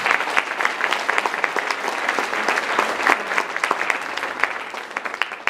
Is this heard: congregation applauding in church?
yes